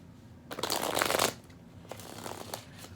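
A deck of Rider-Waite tarot cards is shuffled up close: one dense riffle burst, then a lighter, patchier run of card flicks after a short pause.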